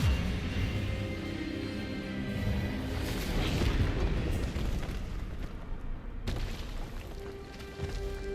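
A spell cast during a duel in Hogwarts Legacy lands as a dense, rumbling magical blast that swells loudly and holds for several seconds, with a sharp crack near the end.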